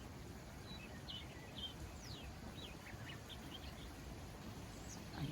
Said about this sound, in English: And the birds are twittering away.